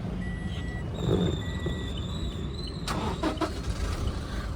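A 2020 Toyota Innova Crysta 2.4 diesel with manual transmission starts, its engine noise rising into a steady, close rumble. A sharp crank-like burst lands near the three-second mark.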